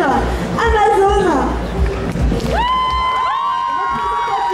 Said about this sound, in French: je vais vous demander d'applaudir Amazon